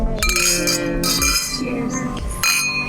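Glasses clink together in a toast outdoors, several bright ringing chinks at irregular intervals with lingering resonant tones and some background sound.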